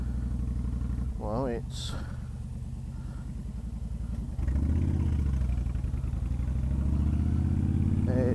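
Idling 1300 cc V-twin engine of a 2013 Honda Fury cruiser motorcycle, a steady low throbbing rumble close by that grows slightly louder partway through, running under someone talking.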